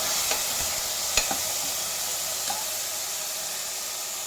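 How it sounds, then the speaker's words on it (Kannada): Chopped tomatoes fry in a pan with curry leaves for horse gram rasam, giving a steady soft sizzle throughout with a few faint stirring clicks, no voices. "ಸೇರಿಸ್ಕೊಂಡು ಚೆನ್ನಾಗಿ ಫ್ರೈ ಮಾಡ್ಕೊಳ್ಬೇಕು. ಟೊಮೊಟೊ ಎಲ್ಲ ಮೆತ್ತಗಾಗೋವರೆಗೂ ಹೀಗೆ ಫ್ರೈ ಮಾಡ್ಕೊಳ್ಬೇಕು."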